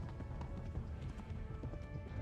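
Horse galloping in Kingdom Come: Deliverance: steady rhythmic hoofbeats pound close and continuous, with a muddy background bed and no talk.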